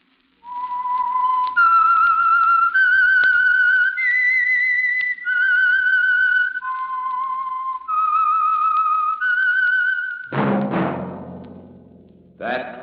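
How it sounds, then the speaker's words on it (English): Whistled theme of the radio mystery program The Whistler: a lone, clear melodic whistle of sustained and gliding notes, loud and close, ending with a brief burst of orchestral sound. "That whistle is your signal for the Signal Oil Program, The Whistler."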